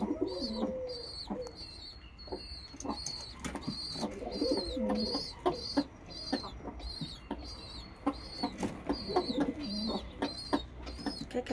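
Pigeons in a backyard loft coo repeatedly and steadily, with soft clucking fowl calls and chirps from other birds mixed in, close and fairly loud throughout with no talking.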